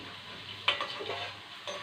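Black pepper frying in a pan for mutton kuzhambu gives a steady close sizzle, with a sharp stirring scrape partway through and faint clinks, and no voices.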